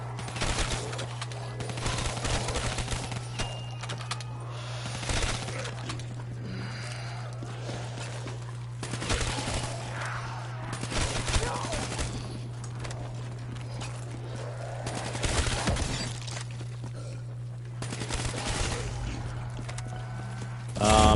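The Weevil submachine gun firing in Black Ops 3 Zombies on Nacht, quick bursts of rapid shots recurring every few seconds over a steady low hum, with occasional footsteps between.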